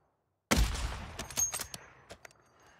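Gunfire from the shooter game Warzone: a sharp burst of close, loud shots at the start, followed by several more scattered reports and echoing cracks that tail off quieter, with no talk over them.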